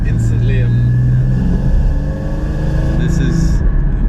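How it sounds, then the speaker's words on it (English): A Porsche 981 GT4 with auto-blip exhaust rumbles through a downshift with throttle blips while driving, the engine note rising and falling beneath steady conversation inside the car. "The downshifts are great. You also have the auto blip exhaust."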